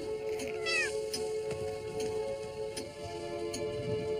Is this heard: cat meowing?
yes